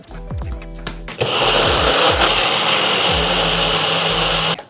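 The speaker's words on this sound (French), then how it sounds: "on mixe le tout" An electric blender whirs loudly and steadily for several seconds, mixing an oat-flake, skyr and almond-milk batter, after a few brief knocks and clatters at the start.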